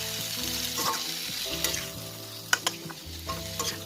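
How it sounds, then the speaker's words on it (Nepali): Marinated chicken for curry frying in a pan, a loud continuous sizzle with sharp spatters and stirring clinks, close up and without talk. "त्यही भएर यसलाई मजाले भुट्दैछौँ हामी यसरी।"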